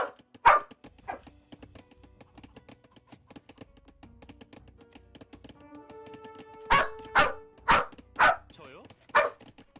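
A dog barks indoors in a short burst of five or six loud barks near the end, after scattered taps and knocks, with a person talking quietly earlier.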